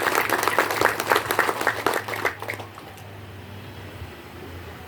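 Audience applause for Haji Wagirin Arman at a village recess meeting in Namo Tualang, a dense burst of clapping for about two and a half seconds that fades out, leaving a quiet room hum.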